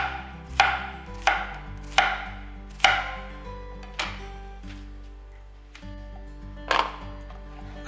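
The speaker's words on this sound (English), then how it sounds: "I use a knife and a cutting board to chop the zucchini" A knife chopping zucchini on a cutting board: a series of about seven distinct, sharp knocks at a steady, unhurried pace, close and clear with no talking.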